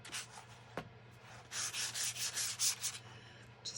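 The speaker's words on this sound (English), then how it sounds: "I'm just going to run the sander across here again" A hand sander is rubbed back and forth across the cut paper edges of a junk journal, making soft, quiet rhythmic scratchy strokes after a few light taps, repeating steadily close by.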